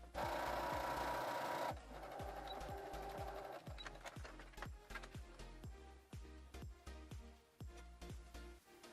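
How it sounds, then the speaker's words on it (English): A serger runs in a loud, steady burst as it stitches along the edge of shorts fabric, then drops to a quick, regular ticking of clicks as the machine keeps feeding the cloth. "I'm just going to sew along this with the serger"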